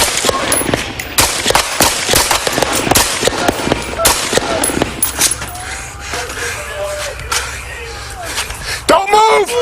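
Gunfire in a shootout on a desolate prairie by a railway line, with rapid sharp cracks in dense bursts for the first half, then sparser shots, loud and close, under shouting voices.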